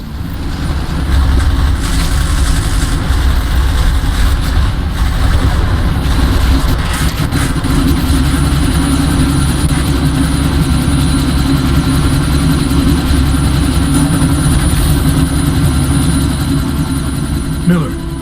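Helicopter engine in the video game Deus Ex: Mankind Divided, a loud steady low droning roar with rotor thrum throughout, no talking.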